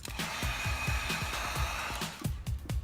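A heat tool blows a steady, close airy roar onto small cut pieces of Worbla thermoplastic for shoulder-strap armor, with low knocks and taps underneath before the blast cuts off near the end.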